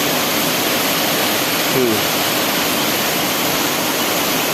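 Steady, dense roar of a waterfall about 15 meters high, surrounded by large boulders, loud and close, filling the whole clip without pause.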